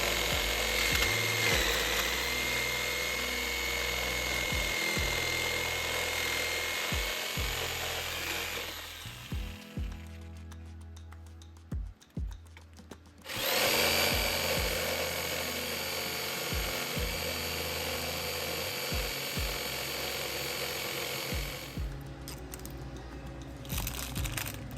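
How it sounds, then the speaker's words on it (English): A jigsaw cuts through wood on a vintage sewing table, a harsh, buzzing power-tool drone running in two long stretches with a short quiet break between them and scattered knocks throughout. "so I had to trim that down with my jigsaw."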